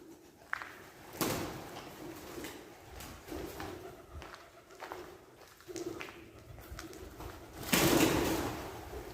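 Pigeons coo softly and intermittently nearby, with occasional wing flutters and shuffling noises, one louder flurry near the end.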